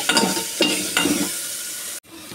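Food sizzling and being stirred in a pan while a home curry is cooked, a steady frying hiss broken by a few scraping stirs and a brief drop to near silence toward the end.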